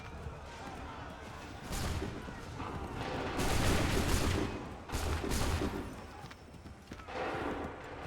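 Repeated musket volleys in an Assassin's Creed 3 battle, dense loud bursts of gunfire rolling one after another over a steady background of hooves and battlefield noise.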